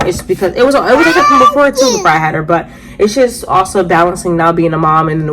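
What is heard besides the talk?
No distinct noise like a dog, phone or traffic.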